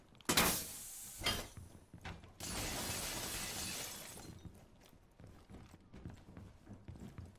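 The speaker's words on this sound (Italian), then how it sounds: "Allora, questo qua per rompere, eh? Per rompere il vetro." Glass window smashed in the video game Rainbow Six Siege: a sharp close shatter, a second crack, then a longer burst of breaking and crumbling glass lasting over a second before fading into quieter game noise.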